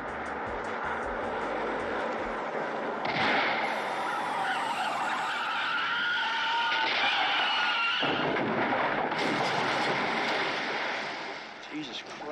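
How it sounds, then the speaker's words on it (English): Film sound of a car swerving off a road and plunging into a river in Blow Out, a loud sustained rush of skidding tires and roaring noise with sharp shifts in texture, nearly continuous throughout. "he witnesses and records the sound of a car swerving into a river."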